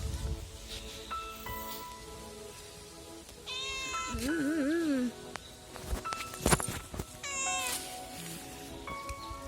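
A small grey kitten caught in the forest gives several loud, wavering meows in two separate bursts, close to the listener, with rustling and faint voices around it.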